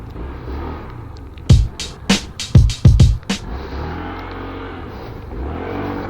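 A Euro Samurai 155i motorcycle blips its throttle in a rapid burst of about six sharp revs, loud and close, then settles back to a low idle rumble.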